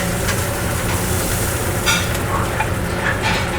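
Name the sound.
arepa frying on a flat top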